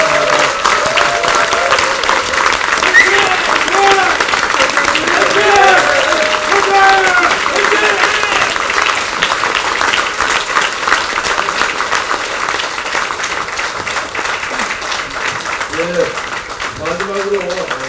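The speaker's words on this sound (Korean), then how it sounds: "여러분 박수 한번 보내주십시오" An audience at a Korean political party's campaign committee closing ceremony applauds steadily for nearly twenty seconds as flowers are presented, a loud, continuous wash of clapping with voices talking over it.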